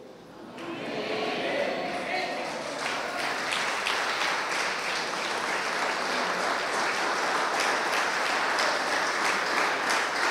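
Sustained applause from a large church congregation, dense and even, starting after a brief pause and continuing steadily throughout.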